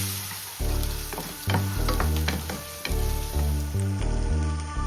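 Chopped onions and curry leaves sautéing in a pan for a Chettinad egg drop curry, with a loud, steady sizzle broken by repeated clattering stirs and scrapes close by.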